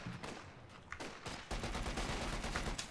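Sustained MG42 machine-gun fire in a Black Ops 3 match, dense rapid bursts that run continuously and grow heavier and louder halfway through, with no talk over it.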